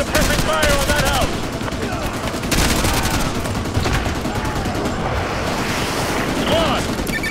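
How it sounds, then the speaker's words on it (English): Dense, continuous gunfire from a street battle in Call of Duty Modern Warfare 2 Remastered campaign on PS5, with overlapping rifle bursts and booms, shouted squad commands mixed in. "Squad, put suppressing fire on that house!"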